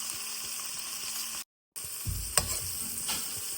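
Ivy gourd pieces with turmeric fry in hot oil with a continuous bright sizzle. The sound cuts out briefly, then a low stirring scrape and a sharp tap come through under the sizzle.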